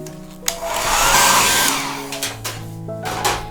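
A hair dryer blows over a wet watercolor butterfly painting. A loud, steady rushing whoosh starts after half a second, peaks, then eases into a softer hum, with light background music throughout.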